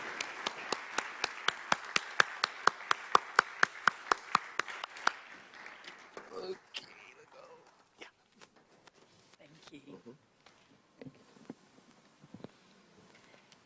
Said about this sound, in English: keep it clapping, keep the clapping going.